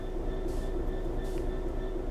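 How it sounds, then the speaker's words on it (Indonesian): A steady train rumble from a Class 66 diesel locomotive in Train Sim World 3, starting to move, with a low engine hum and faint hissing bursts, continuous and fairly close, with no voices. "Disuruh majuin kereta"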